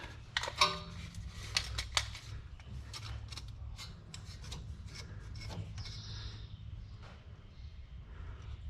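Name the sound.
spanner wrench loosening a coilover collar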